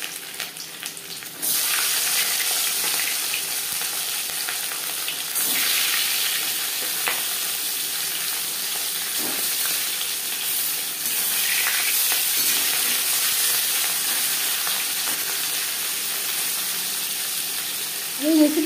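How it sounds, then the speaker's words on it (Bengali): Marinated catla fish frying in hot refined oil, a steady, loud sizzle starting abruptly after a quiet moment and continuing with crackles and spits throughout, with occasional stirring. "মাছ ভাজবার জন্য 4 চামচ রিফাইন্ড অয়েল গরম করে নিয়েছি।"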